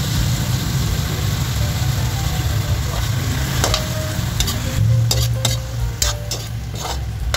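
Pork belly, already boiled until tender, sizzles steadily in a pot of sinigang as it is stirred, a dense continuous frying hiss with faint clinks near the end.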